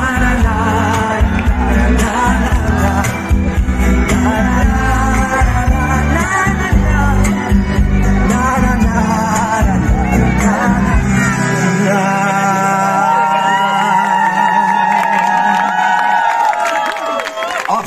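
A concert audience at a family day in Földes cheers and screams over loud amplified music, a dense, continuous crowd roar that thins toward the end as the music drops away.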